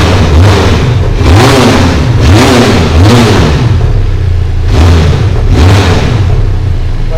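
A Benelli TRK 502 motorcycle, just back from a showroom service, revs repeatedly up close, several rising and falling engine bursts over a loud steady idle, no talking.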